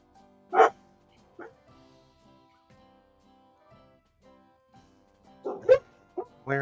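Dogs bark indoors in sharp, separate bursts: one loud bark near the start, then a quick cluster of several barks toward the end, with quiet stretches of faint background between them.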